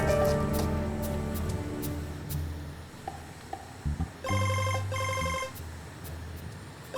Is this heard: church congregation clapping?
no